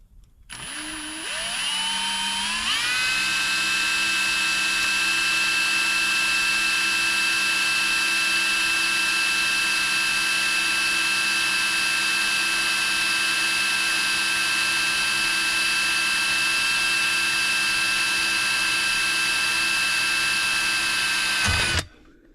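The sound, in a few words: drilling a hole in a model Garratt locomotive part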